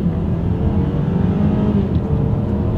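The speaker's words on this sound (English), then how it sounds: "let's see how quickly we can get this one here up to speed. All right, you guys, from a standstill in 3, 2, 1, off we go." A 2022 BMW X4 pulls away from a standstill under hard acceleration, its engine a loud, steady low roar heard from inside the cabin as it builds speed.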